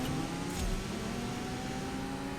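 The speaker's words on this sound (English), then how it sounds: "Alright, nitrous on fourth gear." A car engine in the CSR2 drag-racing game revs steadily on nitrous in fourth gear, a continuous whining drone with rising tone, fairly quiet and uninterrupted.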